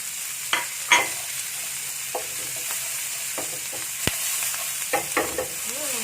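Garlic, chili and dried shrimp fry in a pan with bay leaf and galangal, sizzling steadily while a utensil scrapes and stirs in irregular strokes, close and clear with no talking.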